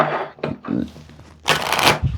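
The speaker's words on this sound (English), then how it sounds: "All right, cards are shuffled." An oracle card deck is shuffled by hand in short bursts of papery riffling and soft slapping, close and fairly quiet, with a louder riffle near the end.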